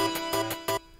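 Minor chords with the bass raised to A ring out in a game boss theme, three or four short loud synth stabs in quick succession before dropping to a faint tail.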